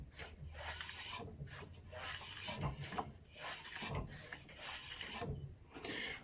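Front brake on a Honda CB750 K2 motorcycle dragging against the spinning front wheel, a rhythmic scraping rasp that pulses repeatedly, close and quiet, with no talk.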